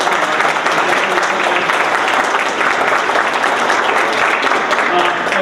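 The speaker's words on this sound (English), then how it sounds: "Can we get another round of applause?" Audience applause at a campus speaking competition, a full room clapping in a continuous, even wash of sound from start to finish.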